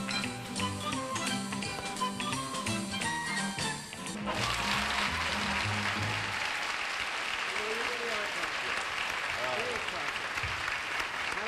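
A 1967 television game show studio audience breaks into warm sustained applause after a stretch of music, the clapping continuing loud and dense while a voice speaks over it.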